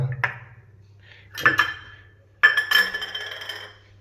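A large metal cooking pot set down on a gas stove in a home kitchen, heard as three separate clanks and clatters with ringing metallic tails, the last one longest, and no talking.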